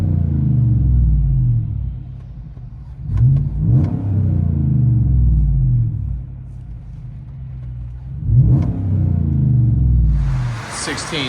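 A 2016 Chevy Silverado with the 5.3L V8, a Magnaflow Magnapack middle section and the rear resonator deleted is revved up close several times. It gives deep, rumbling bursts that rise and fall between steadier idle stretches.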